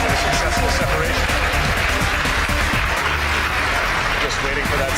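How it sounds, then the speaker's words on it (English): A crowd downstairs cheering and applauding at a rocket stage separation during the CRS-12 launch, a dense, sustained roar of clapping and voices, with a commentator talking over it. "As you can hear from the crowd cheering downstairs"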